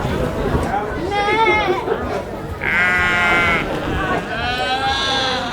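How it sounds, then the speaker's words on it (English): Sheep being judged at the Shropshire County Show bleat loudly and close by in several drawn-out, quavering calls over a steady background of crowd chatter and livestock noise. "They're judging sheep over here."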